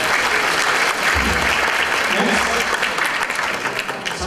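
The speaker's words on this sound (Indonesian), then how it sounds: "Oke, tepuk tangan dulu buat kita semua." Audience at an Indonesian investment talk breaks into steady, dense applause that fills the room, loud and continuous throughout, with some crowd murmur mixed in.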